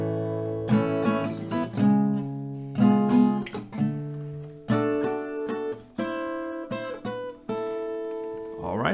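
Acoustic guitar playing the intro of a song: sustained chords strummed and plucked in a steady pattern with clear pauses between phrases, close and alone.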